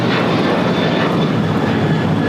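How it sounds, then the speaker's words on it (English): An Alaska Airlines Boeing 737-900ER jet roars down the runway on takeoff at LAX, a loud, steady broadband engine thunder filling the whole stretch with no voices. "Alaska Airlines 1418 taking off to Guadalajara on a 737-900ER"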